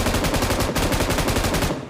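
Rapid automatic gunfire from the battle royale video game BGMI, a steady rattling burst of shots that runs nearly two seconds, loud and close, with no voices over it.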